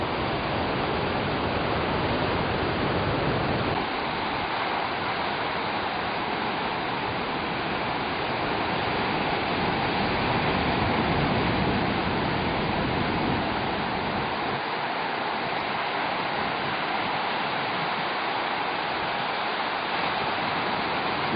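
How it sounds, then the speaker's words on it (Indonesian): Sea waves wash onto a beach of Sempu Island, sheltered by an offshore island, a steady, broad roaring wash that holds on without pause for the whole stretch, with no talking. "Sepertinya di sini ombak tidak terlalu berbahaya karena ada pulau yang menghalangi."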